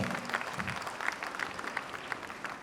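Applause from an audience at a Malayalam film event, a continuous, moderately loud wash of many people clapping with a few sharper individual claps.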